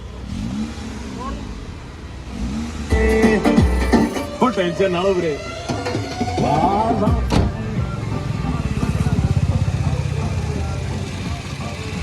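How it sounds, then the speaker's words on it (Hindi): A Toyota car sits idling with a broken engine mounting, giving a low, steady rumble with rattly vibration throughout, while people talk over it nearby. "इसकी माउंटिंग आवाज़ आ रही है।"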